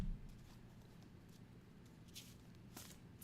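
During a tarot-style card reading, cards are handled and shuffled close by, a quiet patter of soft slides and flicks with a few brighter snaps near the end.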